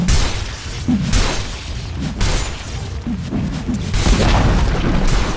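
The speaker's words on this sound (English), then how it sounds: "Dire's middle tower has fallen" A tower in Dota 2 is destroyed with a dense, loud rumbling crash of booms and crumbling debris that runs throughout, plus a few sharp impact bursts.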